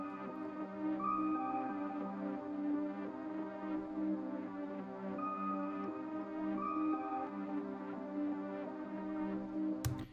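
A soft layered electronic loop plays alone, a gentle melody over a sustained pad with light steady percussion, ending in a sharp click.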